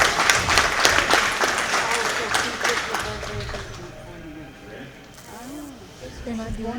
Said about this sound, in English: Let's give all you guys a big round of applause.